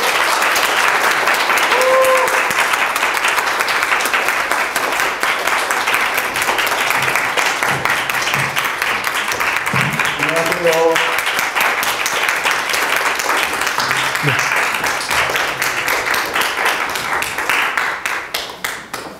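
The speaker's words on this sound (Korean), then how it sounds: "큰 박수로 맞이해주세요" Sustained applause from a large university lecture audience welcoming a company chairman to the stage, loud and steady throughout with a few brief vocal sounds mixed in, fading slightly at the end.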